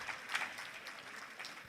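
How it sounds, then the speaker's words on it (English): Audience at a Nigeria Economic Society conference applauding the immediate past president, a steady mid-distance patter of many hands clapping that holds throughout without pause. "Please continue clapping."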